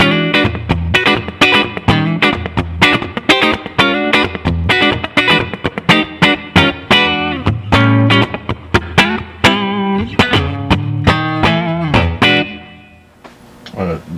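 Distorted electric guitar through an Overloud TH2 amp simulator with a Blackface amp model and TH2 cab plays a rhythmic run of picked chords and notes, with a touch of room reverb, ringing out at the end.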